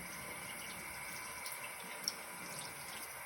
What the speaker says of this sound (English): I go ahead and begin by letting the water run down my hands from my wrist to my tip of my fingers.